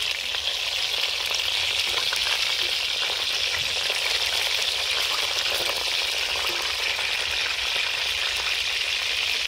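Seekh kebabs fry in hot oil in a kadai, giving a loud, steady, dense sizzle that holds evenly from start to finish with no voices.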